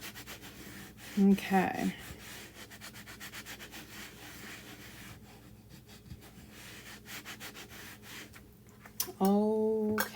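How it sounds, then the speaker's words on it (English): Wax is rubbed by hand onto a 3D witch hat craft project, a soft, steady scuffing that runs through the middle under brief spoken words and a few louder handling sounds at the start and end. "what I just did is I waxed it. This is just some of our surface wax that we sell."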